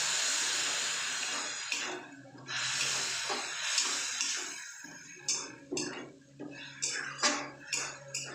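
A little water poured into chicken curry masala in a pan, a gushing splash and bubbling hiss that fades into scattered clinks and sputters.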